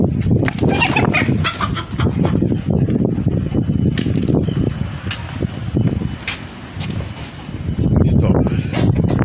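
Chickens, including roosters, cluck and squawk close up, a busy continuous flock chatter with flapping and scuffling mixed in.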